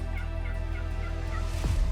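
An Osceola wild turkey in a Florida swamp gives a rattling gobble near the end, distant and brief, over a steady humming background drone.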